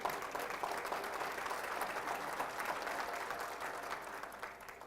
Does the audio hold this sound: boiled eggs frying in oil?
no